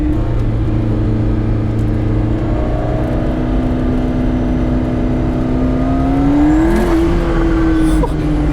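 A turbocharged mid-engine supercar accelerating, heard from inside as a loud sustained engine roar rising steadily in pitch, then easing off with a brief shift and faint whoosh near the end.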